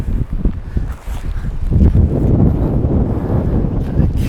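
Strong wind gusts buffet a DRIFTA Rapidwing 270 awning outdoors, loud low rumbling and flapping that builds and holds steady after a brief lull, with light rustling throughout.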